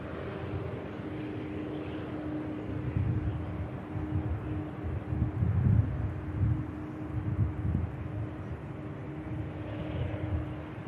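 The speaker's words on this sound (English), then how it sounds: "this aircraft, King of the Skies." A Boeing 747 at Manchester Airport: a steady, distant jet engine drone with low rumble and a faint tonal whine, swelling slightly mid-way, heard alone without talk.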